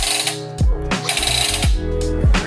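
A power tool presses against a metal plate over concrete, its trigger pulled to give a loud, close mechanical rattle with rhythmic pulses and sliding pitch bursts about once a second.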